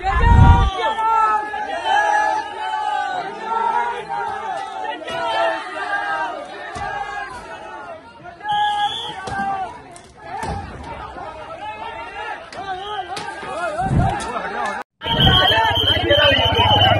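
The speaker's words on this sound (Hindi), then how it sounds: "जो भीड़ है, इसने जो उत्पात मचाया है, सबूत आपके सामने" A dense, loud crowd at Charminar in Hyderabad mills and shouts in a continuous rowdy babble of many voices, with sharp outbursts and a brief cut near the end.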